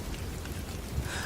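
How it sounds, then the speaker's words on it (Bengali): Light drizzling rain in a cartoon, a faint, even patter and hiss of falling drops, short and continuous with no voices. "ঝিরিঝিরি বৃষ্টি পড়ছে"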